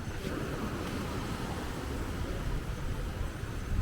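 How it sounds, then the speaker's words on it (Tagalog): Steady, strong wind roars and buffets the microphone without a break at Cloud 9 in Siargao, a dense rushing noise with no voices. "Ang lakas ng hangin"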